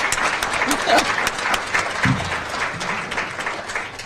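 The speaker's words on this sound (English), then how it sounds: "Give you a round of applause in the back." Crowd at a community rebranding celebration applauding, a steady mass of clapping hands at moderate volume with sharper nearby claps and a few murmuring voices and calls underneath.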